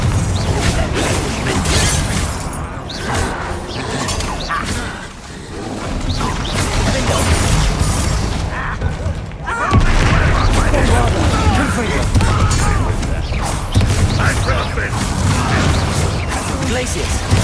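Confringo fire spell blasts in Hogwarts Legacy, dense repeated booms and crackling bursts amid chaotic battle noise, loud and continuous, with voices shouting throughout.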